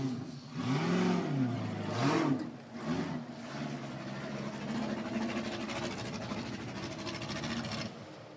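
UFO race machine of Gomez Brothers Racing launching off the line in 4400 qualifying at the Jeep Proving Grounds short course: an engine revs up in rising, swooping surges, then settles into a sustained roar at moderate distance.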